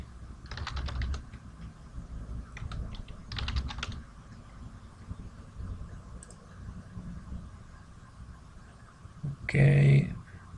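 Typing on a computer keyboard comes as short bursts of rapid clicks separated by quiet pauses, close and clear, with a brief louder knock near the end.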